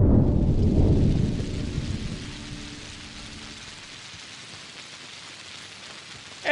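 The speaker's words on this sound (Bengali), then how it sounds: "এই দেখো আবার বৃষ্টি শুরু হয়েছে।" Heavy rain comes in with a deep rumble of thunder that rolls loud at first and fades over a few seconds, leaving steady rainfall pattering on surfaces with no one speaking.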